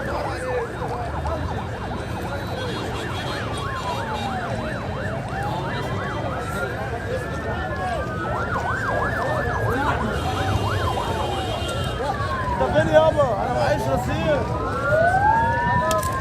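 Ambulance sirens wail continuously with rising and falling sweeps, several overlapping, loud and steady over busy street noise at the site of a train crash in Toukh, Egypt.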